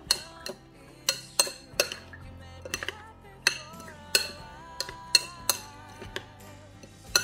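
Kilawin being stirred with mayonnaise in a bowl produces a steady series of bright clinks and taps of a utensil against the dish, close and fairly crisp.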